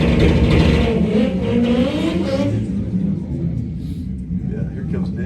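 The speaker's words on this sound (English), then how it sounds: "I like how we always got the fast cars behind us and we talk." Fast drag race cars rumble and accelerate close behind people talking at a shootout event, the engine roar heavy at first and fading toward the end beneath the voices.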